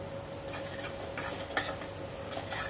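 Black masala spice mix (ghati masala with onion, coconut and Kashmiri chilli) stirred in a pan for Vaghatyachi bhaji, with a steady faint sizzle under repeated scraping and clinking of a utensil against the pan, close and moderately quiet.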